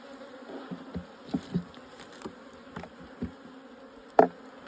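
Honey bees buzz around an open, weak overwintered hive during an inspection, a continuous droning hum with individual bees passing close by and a louder buzz near the end.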